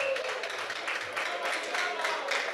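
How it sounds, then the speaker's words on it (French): An audience at a church anniversary celebration claps steadily and fairly loudly, a continuous wash of applause with faint voices mixed in. "On applaudit très très fort."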